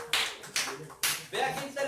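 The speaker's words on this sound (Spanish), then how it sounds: "Un aplauso" A small church congregation gives a few sharp, separate claps in a sparse burst, each hand strike crisp and close, with no talk over them.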